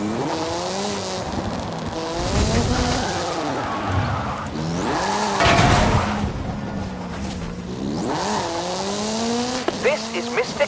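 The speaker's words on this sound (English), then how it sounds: "This is Mr. Kenneth Block's Hooligan Gymkhana 10 Ford Focus RS RX" Ford Focus RS RX Hooligan Gymkhana 10 rally car with a 2-litre turbocharged front-mounted engine and all-wheel drive, driven in Forza Horizon 5: repeated loud rising and falling engine revs with tyre squeal as it slides and accelerates.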